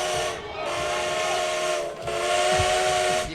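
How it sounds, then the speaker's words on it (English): A steam train whistle played through a phone speaker, loud and sustained with steady hissing tones, briefly dipping and resuming twice in three seconds. "People thought there was really a train rolling through here."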